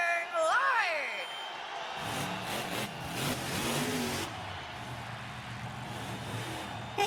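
Monster truck engines rev at a race starting line in an animated film. A whooping, sweeping cry opens into a loud, steady roar of revving that fills the rest of the stretch.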